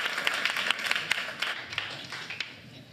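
A small audience at a streaming-strategy talk gives scattered, light applause, a handful of separate claps rather than a full ovation, thinning out over a few seconds.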